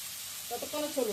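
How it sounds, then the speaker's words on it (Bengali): Chopped onions dropped into hot oil already used for frying hilsa fish, giving a soft sizzle that builds over about a second, faint and close, with light stirring. "এবার পেঁয়াজগুলো ছেড়ে দিই"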